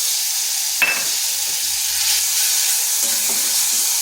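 Turmeric powder with ginger and green chilli paste sizzling in a hot pan for a Bengali raw banana dish, a steady hissing fry with a brief stir or clatter partway through and no voices.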